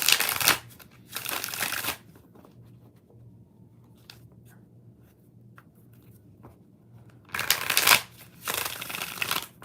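Tarot cards shuffled in close, crisp riffling bursts, two at the start and two more toward the end, separated by a quiet stretch with faint room hum.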